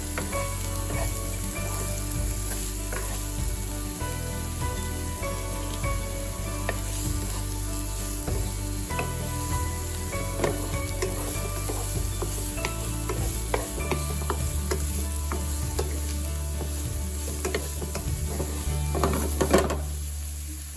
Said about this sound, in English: you mix it together with the garlic until it gets a little bit brown